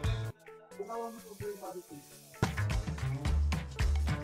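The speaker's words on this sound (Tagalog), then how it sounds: "Okay, next prito ulit tayo." Steady sizzling of prime steak frying in a hot pan, close up, with clanks and scraping of utensils and background music.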